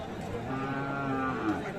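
A single drawn-out moo from a calf nearby at a livestock market, low and steady for under two seconds; cross and Friesian bull calves are on sale.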